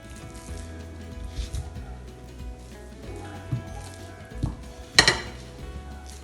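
Stuffed pomfret, filled with a fresh mint, coriander, lemon and ginger-garlic paste, is turned over in a frying pan, giving one sharp metallic clatter near the end over soft, steady kitchen clinks and low sizzling.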